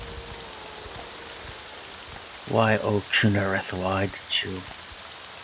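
Rain falls in a video game as a steady, even hiss. It runs through the whole stretch, and someone talks over it partway through.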